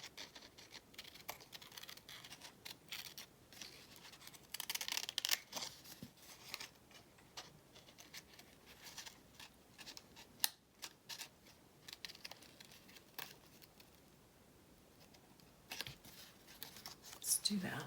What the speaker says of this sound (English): I am gonna have to cut a little more away